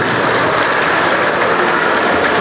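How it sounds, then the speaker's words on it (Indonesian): Dense, continuous applause from a large audience at a Banten provincial party board inauguration ceremony, loud and steady throughout with no pauses or talk. "Tepuk tangan."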